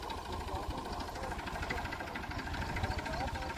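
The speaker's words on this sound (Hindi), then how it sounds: "अब देखिए बिल्कुल चल रहा है ट्रैक्टर बड़े मज़े में" A small tractor engine runs at a steady idle with an even, chugging knock, faint and continuous throughout.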